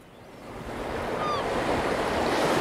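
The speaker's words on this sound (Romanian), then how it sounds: "Ascultă cum valurile se sparg de țărm." A wave swells and rushes in, building from quiet to a steady, wide wash of surf, with a faint whistling tone briefly on top.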